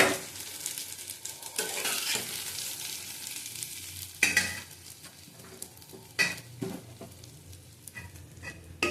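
Fried ingredients are stirred into rice in a hot pan, giving steady sizzling with repeated sharp scrapes and clatters of a spoon against the metal, loud and close.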